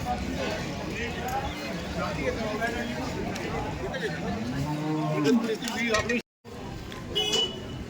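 Buffaloes low and moo at a busy livestock market in Dhule, one long bellow standing out mid-clip over a steady crowd murmur and nearby talk.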